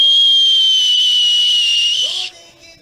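A hand whistle blown into two cupped fists: a loud, steady, pure high tone held for over two seconds, ending abruptly, followed by a brief low murmur.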